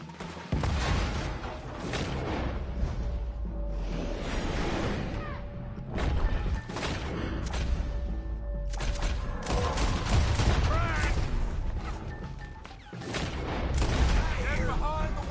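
A Red Dead Redemption shootout erupts with rapid, overlapping gunshots, booming reports and crashing impacts in loud bursts, while characters shout over the chaos.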